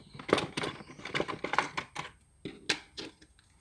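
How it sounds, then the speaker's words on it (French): Small scissors snipping the corners of folded paper for an Easter scrapbooking basket, a quick series of sharp close-up cuts in an irregular rhythm with short pauses between, no voices. "je vais venir couper mes petits coins là et là"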